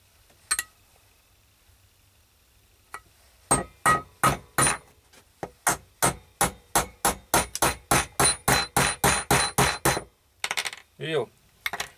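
A hammer knocks on metal parts of an Alpina P-450 chainsaw during disassembly, first a couple of isolated taps, then a steady run of about twenty sharp, bright strikes, close and loud, ending in a quicker cluster.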